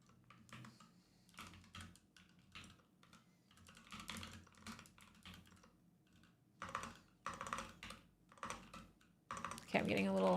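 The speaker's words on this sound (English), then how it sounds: "I'm getting a little overexcited typing here." A computer keyboard clatters in bursts of fast, uneven keystrokes, close and clear, with pauses between flurries. A person talks quietly at times between the typing.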